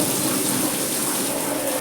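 Water splashes and sprays steadily as a vehicle is washed outdoors, a dense, continuous rushing wash with no pauses or voices.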